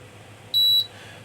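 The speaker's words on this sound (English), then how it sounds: "Should beep in a second." An Agilent E3632A bench power supply gives a single clean electronic beep of about a quarter second as it is switched on, loud against a faint background hum.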